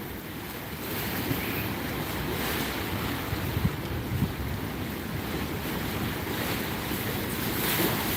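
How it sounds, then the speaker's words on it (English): Steady, breezy wind blows outdoors on a fishing outing, a constant broadband rush of air buffeting the microphone, with water and surf noise underneath and no talking. "It's a little breezy."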